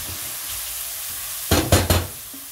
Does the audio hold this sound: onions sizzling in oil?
yes